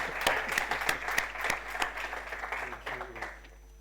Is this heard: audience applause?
yes